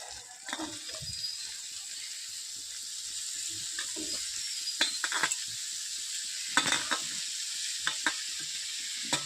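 Squeezed, soaked mushrooms fry in a kadai over a medium-low flame for mushroom masala. A steady, hissing sizzle runs throughout, broken by scattered scraping and clinking stirring strokes that come louder near the end.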